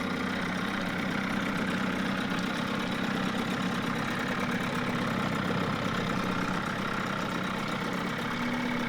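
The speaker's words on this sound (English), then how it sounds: "Idle's really low." A 6 hp Johnson outboard engine just rebuilt for low compression idles very low and steady, a continuous close rumbling drone with a fast even pulse and no talk.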